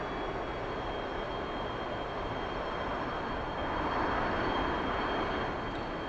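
A jet aircraft engine drones steadily as an F-15EX taxis in the DCS flight simulator, a continuous broadband roar with a faint high whine that swells slightly toward the end, with no talk.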